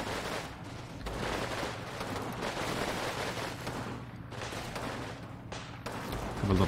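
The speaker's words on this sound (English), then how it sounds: "A little nade chuck there" Grenade blasts and gunfire crackle through a village attack in Combat Mission Red Thunder, dense overlapping bursts of shots with sharp explosive thumps, loud and continuous with brief pauses between volleys.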